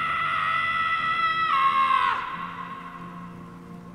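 A character in the Guardians of the Galaxy video game lets out a long, loud, sustained scream that rises in pitch and then breaks off, leaving a low fading hum behind.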